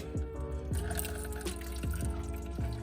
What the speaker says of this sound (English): We just got a little cottage cheese container that's just gonna catch all this coolant that's gonna come out of here